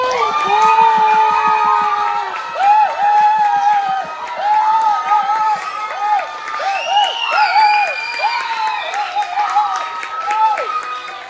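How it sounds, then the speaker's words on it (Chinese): A room of people cheering and clapping for a winning team, loud and sustained for about ten seconds, with shouts and whoops rising over continuous applause. "十秒钟的欢呼加鼓掌"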